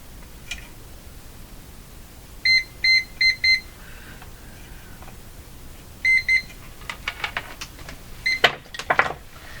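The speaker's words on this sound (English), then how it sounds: "In the transformer probably is what's causing the meter to beep." Multimeter continuity tester on a Philco model 32 tube radio beeps in short bursts, a run of four quick tones, a pause, then two more, followed by scattered clicks and scratchy probe contacts, loud and close with no talking.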